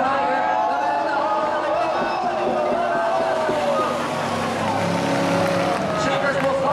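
A V8-powered Mazda RX7 race car engine roaring at high revs, a loud continuous note rising and falling with throttle, heard alongside an excited commentator's voice.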